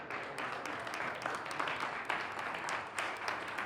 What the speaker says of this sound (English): So give us a round of applause, please.